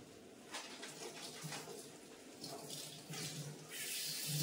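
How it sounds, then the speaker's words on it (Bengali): A roti cloth is washed under a running kitchen tap, producing a close, soft, steady splash of flowing water with faint rubbing and dripping bursts. "তো এবার রুটির কাপড়টা ধুয়ে নিচ্ছি"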